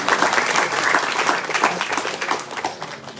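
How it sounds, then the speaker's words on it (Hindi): University students in a hall applaud together, a dense, loud burst of many hands clapping that carries on steadily and tapers slightly near the end. "वेरी गुड, इसके लिए ताली बजाओ।"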